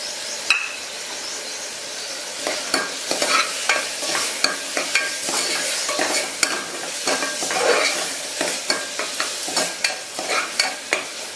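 Spoon stirring spicy oatmeal with salt and chili powder in a hot pan, repeated scraping strokes over a continuous sizzle, close and loud, no talking.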